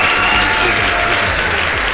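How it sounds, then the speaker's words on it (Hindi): In a cartoon jungle story, a crowd of animals claps together, heard as loud, dense, unbroken applause that fills the whole moment from start to finish. "सभी जानवरों ने मिलकर तालियां बजाई"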